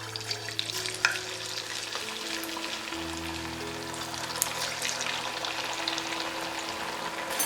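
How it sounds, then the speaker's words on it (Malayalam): Potato fingers fry in oil over moderate heat with a continuous bright sizzle and crackle, steady throughout and undisturbed by voices. "ഇനി ഇത് നമുക്ക് വറുത്ത് പോരാം"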